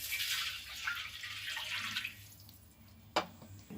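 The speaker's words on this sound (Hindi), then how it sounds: "अब हम गुड़ की चास बनाएंगे और इसमें 1 गिलास पानी डालेंगे" A glass of water is poured into a pot to start a jaggery syrup for flaxseed laddu, making a steady close splashing pour that tapers off, followed by a single sharp knock near the end.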